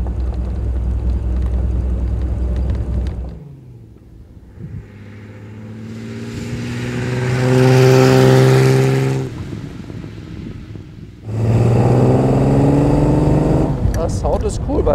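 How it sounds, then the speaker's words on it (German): A 1935 Frazer Nash BMW 315 Sport engine rumbles close by, revving up into a loud passing whine and fading, then roaring again, with people talking over it. "Das Sound ist cool bei dem Auto."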